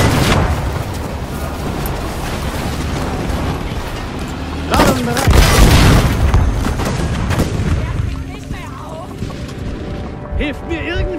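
A grenade goes off in the Battlefield V multiplayer battle on Rotterdam or Narvik, a heavy boom rising out of constant combat noise and gunfire, with shouting voices around it.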